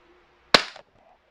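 An Umarex Glock 19 airsoft pistol fires a single sharp, close crack over a chronograph, with a brief tail and quiet room tone before and after.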